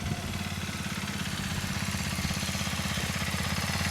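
A Sachs X Road 125 motorcycle slows to a stop from second gear, its engine putting out a steady, close, rhythmic thrum that settles toward idle, with no voices.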